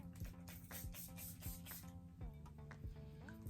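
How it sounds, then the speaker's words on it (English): Repeated short hissing sprays from a facial mist pump bottle, several quick bursts close to the mic over faint background music. "So shake it and then spray it."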